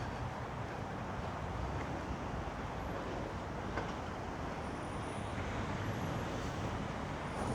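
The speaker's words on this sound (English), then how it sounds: "you can still hear the traffic because it's quite noisy" Constant roadway traffic fills the air at a busy London junction, a dense, steady wash of engines and tyres with no single vehicle standing out, heard from the pavement nearby.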